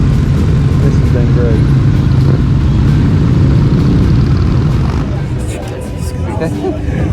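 Motorcycles arrive at the end of a Distinguished Gentleman's Ride group ride, a dense continuous rumble of engines idling and rolling in, loud and close, mixed with crowd chatter and voices talking throughout.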